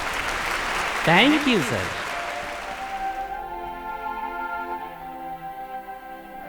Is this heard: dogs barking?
no